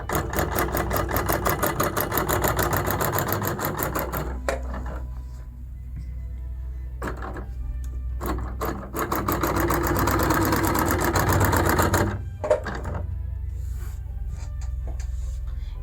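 A Bernina Q16 sewing machine running at reduced speed gives a steady whirring, rapid mechanical stitching in bursts, stopping and restarting a few times with quieter gaps between runs.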